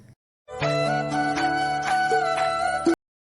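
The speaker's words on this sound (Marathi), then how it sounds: "सासूबाईंचा फोन आला" A mobile phone rings indoors in a home kitchen, playing a single bright melodic ringtone phrase for about two and a half seconds, clear and close, before cutting off into silence.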